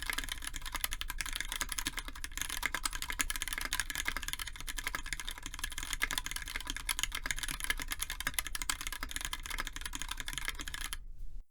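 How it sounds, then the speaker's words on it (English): Steady, fast typing on a KBDFans TFV2 mechanical keyboard with a brass plate, with dense high-pitched clacky keystrokes running continuously throughout, heard close up and alone. "Sound is also nothing out of the ordinary for metal keyboards"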